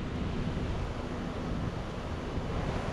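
Ocean surf at La Playuela in Aguadilla, with palm trees along the shore, gives a continuous, even wash of breaking waves mixed with wind rumble, steady and fairly loud without distinct individual crashes.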